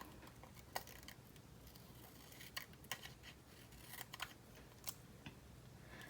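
Scissors snip through paper in quiet, irregular cuts close by, the short crisp snips spaced unevenly with soft handling noise between them.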